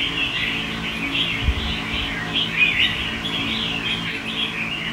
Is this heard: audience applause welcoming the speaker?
no